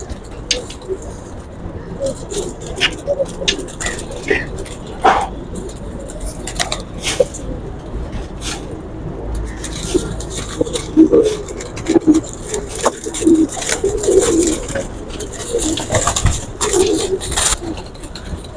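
Pigeons coo softly on a rooftop amid a busy background of rustling, scattered taps and faint voices, with the low calls recurring throughout.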